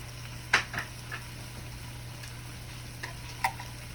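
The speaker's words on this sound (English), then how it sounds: "I'm going to go ahead and add, this is a 1/2 cup of onion" Diced onion drops into a pan of cooking meat, a quiet frying sizzle carrying a few soft clicks and utensil taps over a steady low electrical hum, with no speech.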